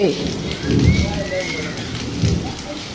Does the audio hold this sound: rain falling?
yes